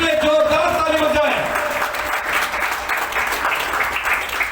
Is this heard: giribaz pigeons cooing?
no